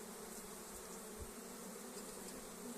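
Steady buzzing of honey bees, a continuous insect drone that holds at an even level throughout, with no voices.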